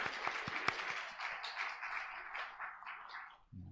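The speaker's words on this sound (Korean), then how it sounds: "다시 한번 우리 축복의 인사를 박수를 다시 한번 보내드리겠습니다" A church congregation at a Sunday service claps in sustained, dense applause that carries on for a few seconds before thinning out.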